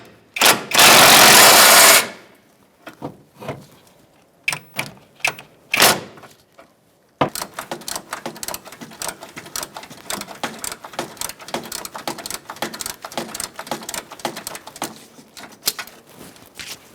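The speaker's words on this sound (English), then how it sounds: "I'm going to use a short socket with a swivel and an extension to take out the bolt up top." A ratchet on a short socket with a swivel and extension clicks in quick repeated bursts while loosening a bolt on the air ride suspension compressor of a 2007-2017 Ford Expedition. A loud burst of noise comes first, then some scattered knocks.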